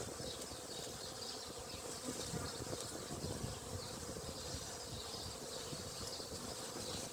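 Honeybees swarm around an open hive during an April inspection, a dense, steady buzzing hum at moderate distance with no voices.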